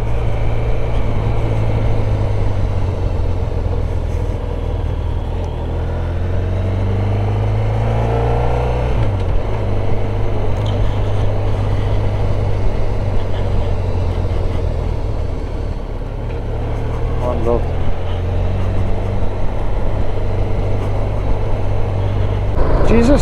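A car travelling along a scenic route in Wales, heard from inside as a loud, continuous low engine and road drone that shifts in pitch with gear changes, with people talking over it.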